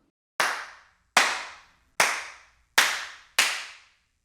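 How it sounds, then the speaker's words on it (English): Five sharp hand claps, evenly spaced about a second apart, recorded close and dry outdoors in a garage setting as drum samples, each with a quick decay and silence between. "And then some claps."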